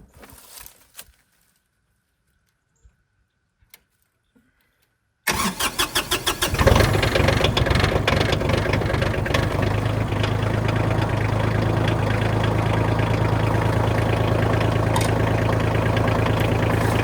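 After a few quiet clicks, a heavy tractor engine cranks and catches with a burst of loud chugs, then settles into a steady, close idle.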